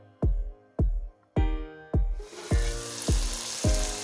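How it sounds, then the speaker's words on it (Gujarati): Soaked moth beans dropped into hot oil with cooked tomatoes over a medium-low flame: sharp, ringing metallic taps at a steady pace, then a loud, continuous sizzle that swells up beneath the repeated knocks. "જે આપણે પલાળેલા મઠ છે એ તેલમાં સડવા દેવાના છે।"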